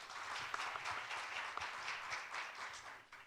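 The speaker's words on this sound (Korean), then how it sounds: "큰 박수 부탁드리겠습니다." Audience applause at a conference in Korea, a steady patter of many hands clapping in a hall, fairly quiet and distant, tapering off slightly at the end.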